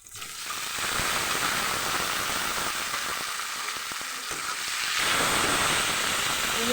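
Bilimbi (irumban puli) pieces drop into hot oil seasoned with turmeric, salt and asafoetida for a Kerala pickle, setting off a steady, close sizzle that swells again near the end, with no talk.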